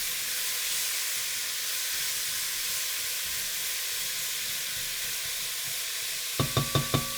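Vegetables sautéing in a pan for a plant-based meal give a steady, soft sizzling hiss throughout, ending with a few sharp clinks of a utensil against the pan.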